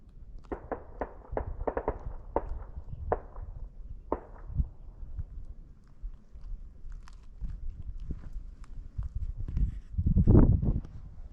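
Distant gunfire rings out across rural Arizona ranch country near Holbrook: many rounds of sharp, irregular reports come in quick bursts early on, then thin out to scattered shots, with a louder rumble near the end.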